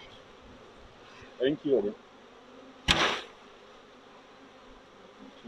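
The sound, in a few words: bees buzzing as a hive is shaken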